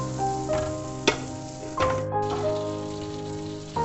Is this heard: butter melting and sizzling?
yes